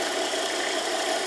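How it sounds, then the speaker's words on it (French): A 575-volt electric motor runs on a test circuit, giving a steady, loud, continuous hum with a faint rattle and no pauses or changes, with no voices over it. "Ça, c'est un moteur qui fonctionne sur le 575."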